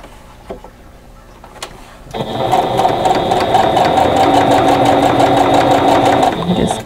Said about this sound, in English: So we're just going to open that up and then sew the next piece onto it.